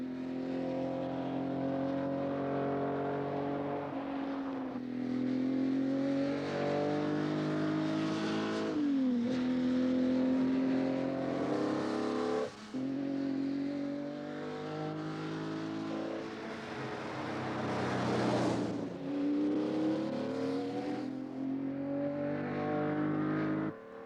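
A Ferrari Testarossa with its light alloy V12 revving and accelerating, a loud continuous engine note climbing and dropping through gear changes, heard close and alone without talk.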